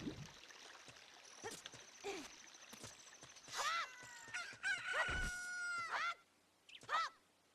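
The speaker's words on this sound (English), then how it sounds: "Wow, a chicken hatched from that egg." A rooster crows in Ocarina of Time after a chicken hatches from an egg: several bright, rising cock-a-doodle-doo calls, loud and close, spread over the clip between short bursts of game effects, with no talking.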